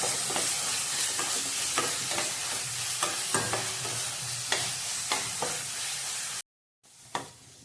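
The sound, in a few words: spice masala being roasted in oil over a slow gas flame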